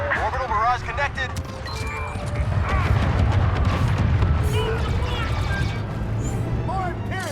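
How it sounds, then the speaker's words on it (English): Orbital barrage explosions from the video game Star Wars Battlefront II rumble as a dense, continuous roar of booms and blasts, with a voice speaking over the barrage throughout. "Orbital barrage, here!"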